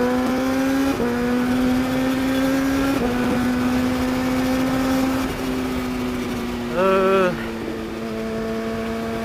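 A 2019 Kawasaki ZX636 sport motorcycle engine drones steadily, with a few quick throttle blips that rise and fall in pitch, loud and close.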